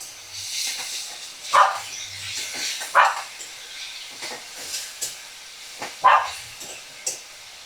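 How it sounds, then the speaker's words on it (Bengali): Shrimp fry over a medium flame for a bottle gourd and shrimp dish. A soft, steady hiss of oil runs under a few sharp pops and clinks that recur every second or two. "তো মাছটা দেখো আমি মিডিয়াম ফ্লেমে রেখে ভেজে নিচ্ছি।"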